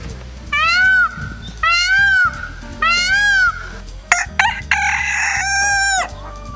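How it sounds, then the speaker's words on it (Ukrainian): Chickens on an eco-farm in Horinchevo village, with a rooster giving three loud, clear crows in close succession, followed by busier clucking and squawking from the flock nearby. "Також на фермі є і кури"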